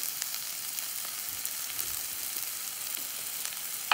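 Onion, ginger and garlic sizzle steadily in a pan over medium heat, a continuous crackling hiss with faint occasional stirring clicks and no voices.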